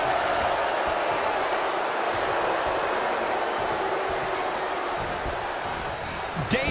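Arena crowd in the wrestling video game WWE 2K20, a steady dense roar of cheering spectators with a faint commentator voice underneath, swelling slightly at the very end.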